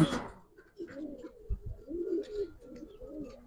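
Gribaz pigeons coo softly in low, rolling phrases repeated several times, close but faint, after a brief handling noise at the start, with no voices.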